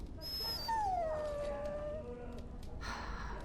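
A dog in the game Dragon Age: Origins gives a single long, falling whine, a thin plaintive whimper heard at moderate distance over a steady low background hum, with no talking.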